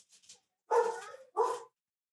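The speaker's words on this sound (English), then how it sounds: "I don't know why the dogs are going crazy." Two loud barks from dogs indoors, each a harmonic bark burst close by, preceded by a few faint yips, then quiet.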